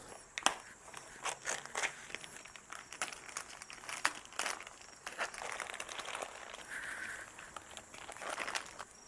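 Plastic packaging around a raw brisket being slit and pulled open, giving close crinkling and crackling with scattered crunchy tearing bursts, before trimming the fat and silver skin.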